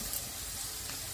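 Grated coconut sizzling in hot oil in a pan alongside raisins for sweet jaggery pongal, a steady close frying hiss with faint stirring.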